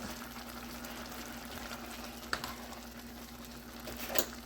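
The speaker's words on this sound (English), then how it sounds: "We've reached the boiling point." A pot of smoked neckbones and butter beans boils on the stove, giving a steady, soft bubbling hiss with a couple of faint clicks, no talk over it.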